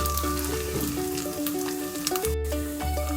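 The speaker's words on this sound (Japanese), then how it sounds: "まず平らにして焼くのが大事です" A flattened tofu chijimi pancake fries in a pan with a steady sizzle that sits under a looping tune of background music, no voices present.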